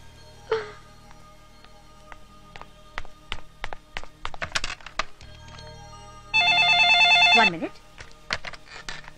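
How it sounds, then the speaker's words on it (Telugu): A telephone rings once in a dramatic film scene, one bright electronic ring burst lasting about a second, preceded by a string of sharp taps and clicks, with a brief voice near the start. "ఉండండి, నేను గాయత్రి ఫోన్ చేసి వస్తాను."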